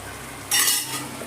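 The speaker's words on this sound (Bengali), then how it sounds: "দেখুন তেলে আমি সমস্ত মটরশুঁটি আর আলুটা দিয়ে এবার ভেজে নেবো" Peas and potatoes hit hot oil in a pan, bursting into a loud, bright sizzle halfway through after a quieter stretch of stirring and frying, with the hiss easing slightly toward the end.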